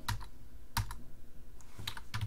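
Keys on a computer keyboard tapped in short clusters while entering a number into an algebra equation editor, a few quick clicks then a pause and another burst, close and fairly quiet with no talking.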